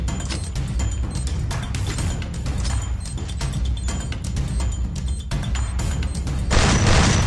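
Explosions and gunfire from the battle royale game Free Fire rattle in dense rapid bursts, loud and continuous, with a heavier blast swelling near the end.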